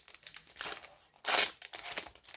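Crinkly plastic wrapping being pulled off a scrapbooking gift, a series of close, rustling crumples with one louder crackling burst in the middle.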